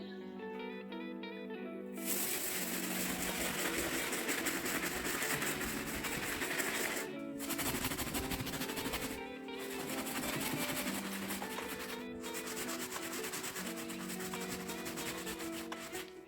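Medium brush scrubbing a Jordan 3 sneaker during cleaning, with steady rubbing strokes in long bursts separated by short pauses, close and alone without talk.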